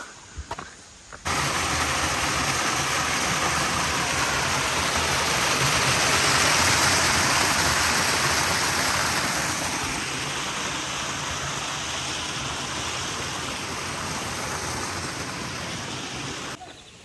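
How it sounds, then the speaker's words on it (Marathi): Waterfall on a monsoon hill trek to Bhimashankar, a loud, continuous broadband roar of rushing water close by that swells then settles steadily, with no talk over it. "सुंदरसा असा पाण्याच्या धबधब्याचा आवाज येतो का गाईस तुम्हाला?"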